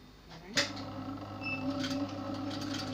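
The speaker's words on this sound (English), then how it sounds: "I'm just going to sew on this line just to keep these two pieces to overlap each other." Sewing machine stitching along the slit of a pencil skirt, a steady mechanical whirring hum that starts after a sharp click and runs continuously, close by, with a voice talking over it.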